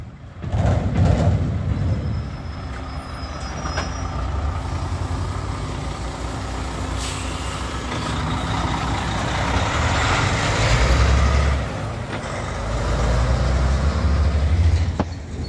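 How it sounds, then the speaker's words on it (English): A chip truck rolls past on a road through Blue Lake, California, its heavy engine rumble loud and sustained, with a long low drone that swells and surges again toward the end. "389, got a chip truck."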